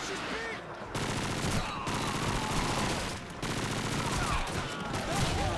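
Rapid bursts of automatic gunfire from Call of Duty 2 crackle almost continuously, with brief gaps between volleys.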